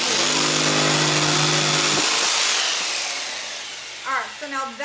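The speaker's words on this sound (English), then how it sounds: "we're gonna pull our trigger and we're just gonna pull the jigsaw off the piece of wood" A jigsaw cuts through a wooden door hanger with a loud, close buzzing whine for about two seconds, then winds down as the blade comes off the wood, followed by a voice talking.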